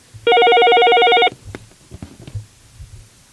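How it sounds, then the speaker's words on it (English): A telephone rings loudly with one steady electronic trill lasting about a second, followed by soft handling clicks and quiet rustling. "Let me answer the phone again."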